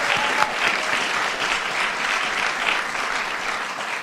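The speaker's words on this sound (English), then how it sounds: "you deserve a big round of applause for that" A crowd at a New Jersey governor's bill-signing event applauds steadily for the full few seconds, a dense wash of clapping with no speech over it.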